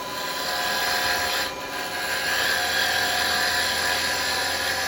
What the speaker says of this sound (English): Roll it over and ride that bevel. You get nice shavings coming off and you get a nice smooth cut.